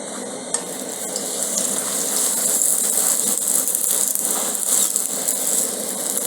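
Chapati fries in hot oil in a pan, giving a steady, moderately loud sizzle with faint crackles throughout, no voices.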